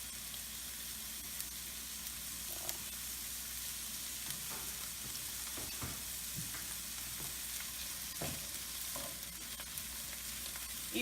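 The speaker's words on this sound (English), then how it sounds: "And you put a little bit of some butter in there." Butter sizzling in a pan for a tuna omelette, a quiet steady frying hiss with scattered small pops and crackles throughout, close and without talk.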